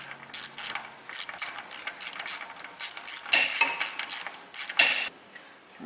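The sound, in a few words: ratchet wrench clicking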